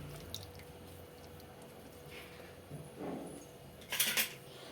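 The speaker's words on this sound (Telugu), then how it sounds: "ఒక చెక్క నిమ్మరసం అయితే పిండేసుకుందాం" Half a lemon is hand-squeezed over water in a pot of rice for vegetable biryani, giving soft squelches and a brief burst of dripping juice near the end in a quiet kitchen.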